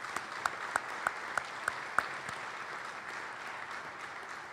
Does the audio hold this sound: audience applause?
yes